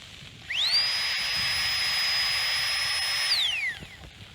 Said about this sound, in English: just the tiny little pumps.